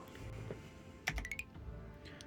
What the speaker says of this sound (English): Press a keyboard button to assign this control.